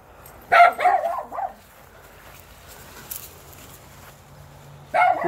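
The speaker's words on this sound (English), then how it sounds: "There's dogs growling." A malamute and other dogs make rough, throaty vocal bursts during trick-or-treating: two short clusters near the start and another at the end, with quiet background in between.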